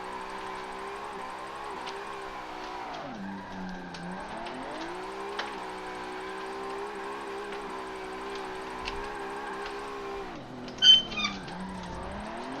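A car drifts in the racing game Forza Motorsport 7, played on a steering wheel, with a steady harmonic engine drone whose pitch dips and rises as the car slides, and a brief squeal near the end.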